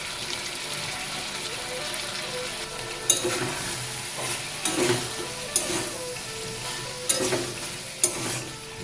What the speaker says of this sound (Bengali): মশলা আর আলুর সাথে সয়াবিনটা প্রায় 2 থেকে 3 মিনিট কষিয়ে নেব